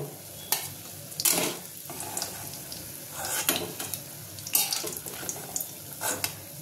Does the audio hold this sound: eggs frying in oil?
yes